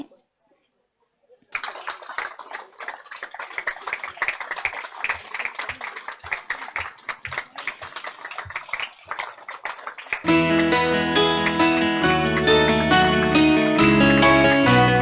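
An audience at a Brahma Kumaris gathering in Godhra claps to welcome guests onto the stage. Dense, steady applause fills several seconds after a brief silence, then gives way to loud music.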